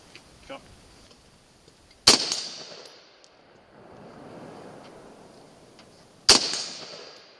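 Two sharp rifle gunshots fired at a target on an outdoor range, spaced about four seconds apart, each a loud crack followed by a short ringing decay, with quiet ambience between.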